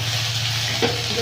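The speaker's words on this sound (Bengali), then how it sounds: "পেঁয়াজ আর আদাটা ভাজা ভাজা হয়ে গেছে" Chopped onion and ginger paste sizzle in hot oil with black cumin in a village kitchen, a loud, close, steady frying hiss with a brief stirring scrape near the end.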